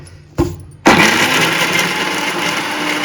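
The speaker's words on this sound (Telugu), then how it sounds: "ఇప్పుడు మనము కట్ చేసి పెట్టుకున్న కొబ్బరిని కూడా వేసి మిక్సీ పట్టేద్దాం." A kitchen mixer grinder gives a short burst, pauses, then starts up and runs in a loud, steady whirring roar while blending coconut chutney with green chillies, salt and cumin.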